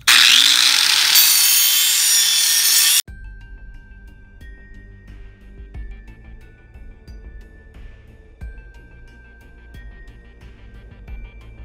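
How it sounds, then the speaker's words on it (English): A 4-inch angle grinder shrieks loudly against the edge of a metal digging shovel for about three seconds, then cuts off, leaving quiet clinks and handling noises. "So this is a grinding wheel. This is a 4-inch grinder."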